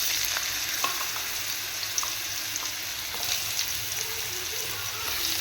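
Cut potatoes sizzling in hot oil seasoned with black cumin (kalonji), a steady crackling fry with faint stirring scrapes throughout, close and fairly loud, with no talking.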